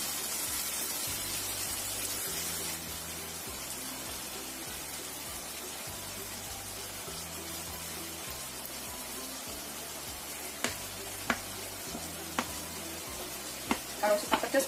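Food frying in a pan with chili sauce and sweet soy sauce being stirred through it: a steady sizzle with rhythmic scraping strokes, a few sharp clinks near the end.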